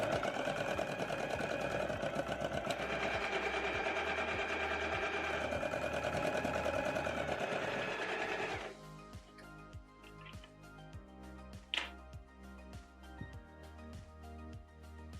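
A sewing machine stitches the seams of a pair of Luna pants, a fast steady mechanical whirr for about eight seconds, then slower, quieter stop-and-start stitching with a sharp click near the end.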